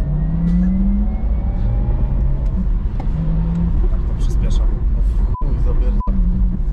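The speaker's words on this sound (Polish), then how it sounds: "Na aplikacji kazali mi pokazać, jak przyspiesza ten samochód." A 571 hp Porsche Taycan 4S electric car accelerates hard while carrying a passenger: a steady, rising electric motor whine over continuous road rumble, heard from inside the cabin with people talking.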